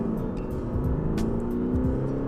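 An Audi A6 Competition with a 326 hp engine accelerates, its engine note rising in a steady low drone with harmonics climbing in pitch, heard from inside at moderate volume.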